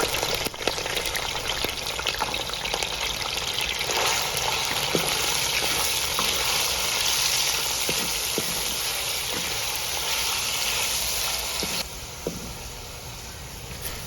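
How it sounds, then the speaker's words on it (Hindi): Half a kilo of boneless chicken frying in hot oil for a village-style creamy chicken pasta, with a steady, crackling sizzle of moderate loudness running throughout and occasional sharper pops, easing slightly near the end. "ऑयल गर्म होने के बाद बोनलेस चिकन आधा किलो इसमें डाल देंगे।"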